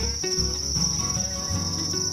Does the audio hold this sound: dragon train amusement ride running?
no